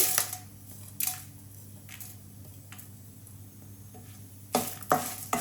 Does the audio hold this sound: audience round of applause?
no